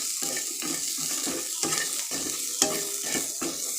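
Sweet corn kernels frying with a little salt in a pan, a steady close sizzle broken by repeated rhythmic stirring scrapes and a couple of brief clinks.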